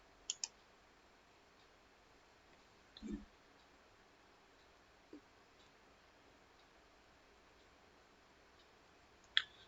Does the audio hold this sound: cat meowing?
no